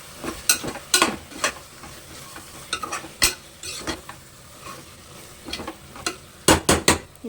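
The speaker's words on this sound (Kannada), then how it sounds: "ಈಗ ಇದೆಲ್ಲ ನೀಟಾಗಿ ಮಿಕ್ಸ್ ಮಾಡಿ" Masala for tomato rice is stirred in a frying pan with a spoon, giving a quick run of sharp scraping clacks against the metal over a low, steady sizzle, close and distinct.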